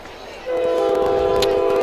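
A train horn sounds at a railroad crossing during a high school sports broadcast, starting abruptly and holding a steady loud blast for over a second, with crowd noise and a voice beneath it.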